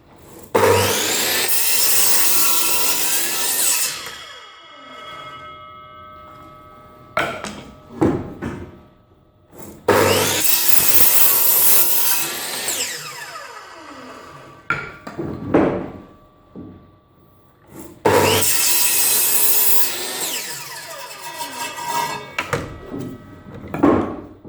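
A saw cutting wooden boards for bunk beds, three long loud rasping cuts separated by clatter, knocks and handling of the boards, all close by.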